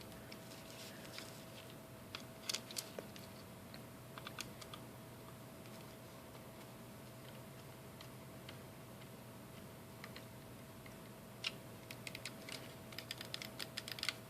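Buttons on a Game Boy Advance SP with a replacement shell click in scattered short bursts, faint and close, some rapid clusters of taps over a quiet steady hum, with no talking.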